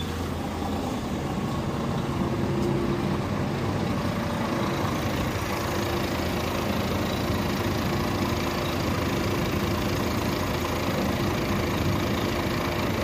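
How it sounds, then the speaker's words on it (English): A DAF CF truck diesel engine idles steadily and close by throughout, a constant low rumble with a faint knocking character while it runs with a fuel pressure control fault. "Right, the truck runs now."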